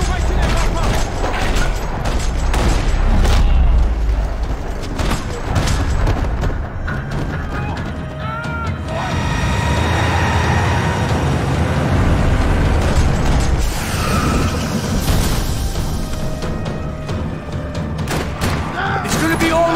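Gunfire rattles through a parking lot in Max Payne 3, with dense, continuous shots, booms and mechanical clatter throughout, mixed with game voices.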